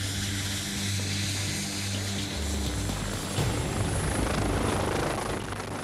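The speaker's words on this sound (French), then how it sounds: "l'équipe de secours se prépare à décoller pour une intervention" A civil security rescue helicopter lifts off from its base at Bron near Lyon with a loud, steady roar of turbine and rotor that builds slightly as it climbs.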